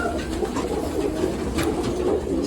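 Racing pigeons coo steadily in a loft, a continuous low murmur from several birds close by with no talk over it.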